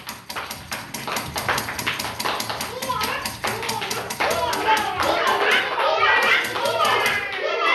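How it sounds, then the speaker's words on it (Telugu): Children clap their hands in a classroom activity, a run of sharp rhythmic claps that starts fairly steady and thickens into scattered group clapping, with kids' voices and chatter rising over it toward the end. "క్లాప్స్ కొట్టండి."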